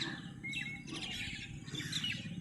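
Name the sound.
birds chirping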